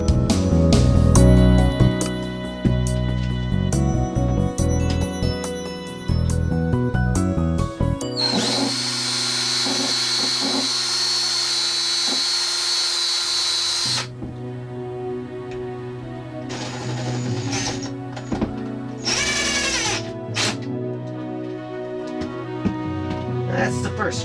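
A power drill drives screws into a hinge on a bamboo tabletop: long, steady, loud whirring runs that shift in pitch as the motor speeds and slows, with short pauses between bursts.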